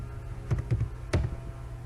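A few quick keystrokes on a computer keyboard enter a test command on a CentOS server, three soft clusters of clicks spaced irregularly and heard close up against a quiet room hum, with no talking.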